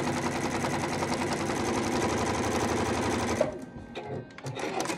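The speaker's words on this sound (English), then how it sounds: "it's gonna sew it right along the 1/4 inch mark" A sewing machine stitches a quarter-inch seam joining patches for a four-patch quilt block, a fast loud rhythmic whir for about three seconds, then it stops and only soft handling noises follow.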